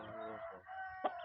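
An 11-month-old fighting cock gives a brief crow-like call followed by a short sharp sound, close and fairly quiet, with no voices around.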